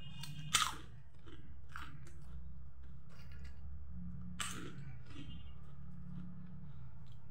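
Close, crisp crunching and biting of packaged crunchy snacks from the Doctor Sahab and Madam Sir brands, a loud initial crunch followed by steady chewing with another sharp bite midway, no talking.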